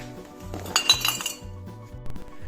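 Glass bottles, including a small spirits bottle, clink together as they are sorted into a bag of rubbish collected from a forest, a few bright clinks over a quiet background with a low repeating hum.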